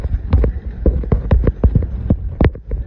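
Horse hooves clip-clop in a close, uneven run of sharp strikes at a farm paddock, loud and steady with a faint hum beneath.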